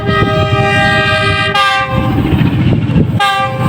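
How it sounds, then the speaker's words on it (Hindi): Freight train passing a railway level crossing (gate no. 32) on the up line, loud and close throughout, with a sustained multi-tone horn blaring over the rumble and clatter of wagons. "अप में एक फ्रेट ट्रेन है, जबकि डाउन में 14 डाउन।"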